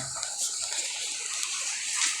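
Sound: rainwater leaking and dripping during heavy rain

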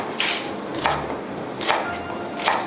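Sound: chopping lemongrass with a knife

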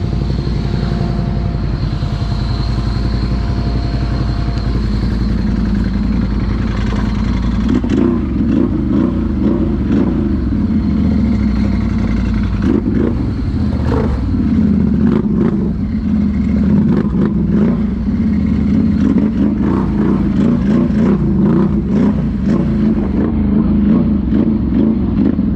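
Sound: Can-Am Outlander Max ATV revving in mud

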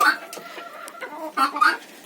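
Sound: chickens and guinea fowl clucking in a coop

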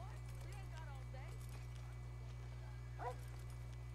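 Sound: American Foxhound dog in video game Red Dead Redemption 2

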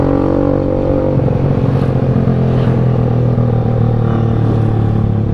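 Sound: motorcycle speeding on a bumpy road

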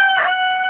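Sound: broiler rooster crowing

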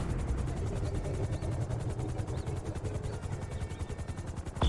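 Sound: airplane engine in video game GTA V

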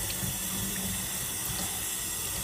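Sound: tap water washing a paint palette in sink

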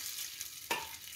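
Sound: stirring rice in oil in a pan

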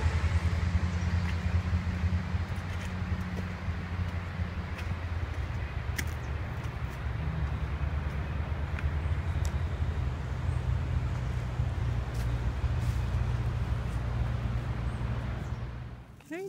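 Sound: stream water rushing with distant traffic

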